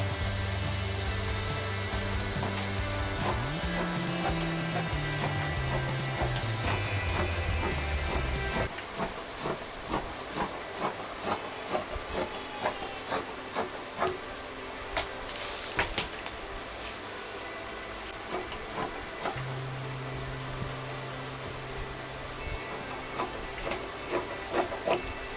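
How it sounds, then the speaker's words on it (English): Scissors cut through fabric for an Anarkali dress pattern, a series of soft rhythmic snipping and rubbing strokes close up, repeating steadily over an underlying hum. "So I'm going to cut this in."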